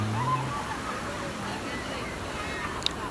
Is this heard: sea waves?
yes